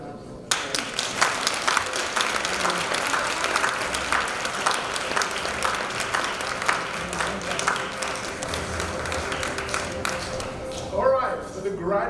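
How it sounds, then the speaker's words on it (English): A graduation ceremony crowd gives the graduates a long round of applause, dense steady clapping filling the hall for about eleven seconds before thinning out, with faint voices mixed in. "So I think you all need to give them a round of applause."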